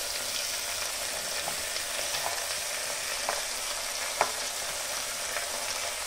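Beans, tomato, carrot, potato and beetroot hit hot oil in a pulao pan, giving a steady close sizzle with a few small stirring knocks and no talking.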